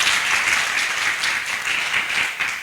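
A crowd at a live entertainment show applauds a safari company sponsor, a dense burst of many hands clapping, loud and continuous, with brief cheering mixed in.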